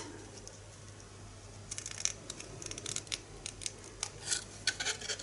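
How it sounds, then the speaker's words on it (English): Scissors cutting a wedge out of grey board scraps, crisp snipping clicks coming in quick irregular bursts that grow busier toward the end, close and fairly quiet over a steady low hum. "just cut out a wedge either side"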